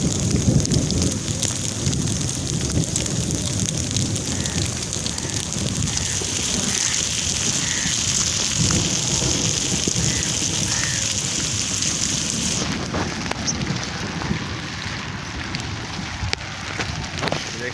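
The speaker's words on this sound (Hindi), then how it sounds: "बारिश बहुत तेज़ होने लग पड़ी है, अब आवाज़ें देखिए कितनी तेज़ आ रही हैं।" Heavy rain pours down steadily, a dense close hiss of drops drumming on surfaces, continuous and loud with occasional splattering spikes.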